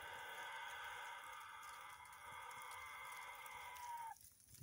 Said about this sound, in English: he's starting to sound like that crazy chicken that had that really wild cock-a-doodle-doo